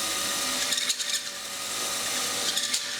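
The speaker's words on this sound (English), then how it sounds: "we are now ready to have a go at honing the bores, just to take that polish mark out" A drill-driven hone works inside engine cylinder bores, making a steady whirring grind with a few scraping bursts, close and moderately loud, with no speech.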